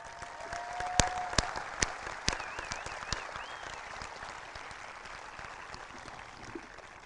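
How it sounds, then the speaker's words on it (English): Audience at a 2020 high school graduation ceremony giving the seniors a round of applause, steady distant clapping with a few sharp nearby claps and a whistle early on, fading gradually. "Let's give the seniors one final round of applause to commend them on their"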